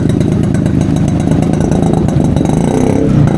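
A Yezdi Roadking motorcycle engine runs steadily after carburetor tuning, a loud, close, thumping exhaust note with some clatter and a slight rise near the end, with no talking.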